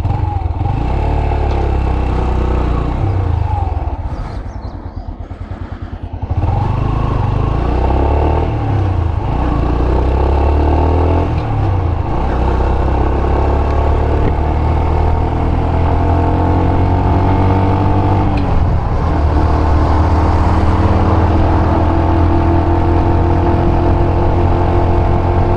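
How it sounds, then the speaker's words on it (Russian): Warmed-up Yamaha YBR125 motorcycle with about 1,469 km on it, ridden on roads toward Russky Island near Vladivostok in the evening: a steady, loud engine drone with wind rush, a brief dip around five seconds, then continuous running to the end. "Вот он звук прогретой Yamaha с пробегом 1469 километров."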